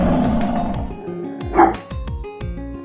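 A pack of wild dogs barks and yips in sharp, loud bursts, several overlapping calls with whines sliding downward between them, close and unbroken by speech.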